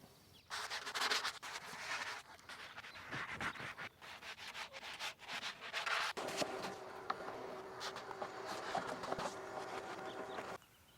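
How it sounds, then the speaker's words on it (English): A rough sanding sponge rubs against the inside of a wooden whiskey barrel in quick, uneven scrubbing strokes, fairly quiet and close, with brief pauses between passes. "just a real rough sanding sponge, and I'm just going to go around the inside with that"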